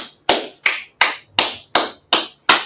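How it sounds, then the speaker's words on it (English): A class in Harlem, New York claps together in unison: seven sharp, loud, evenly spaced claps in a steady rhythm with brief silences between, no talk. "So we're going to clap it up for class, right?"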